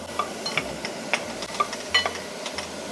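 Radish stirred in a pot with perilla oil and a little water over medium-low heat gives a low sizzle under repeated scraping strokes of a utensil at an uneven rhythm, close up.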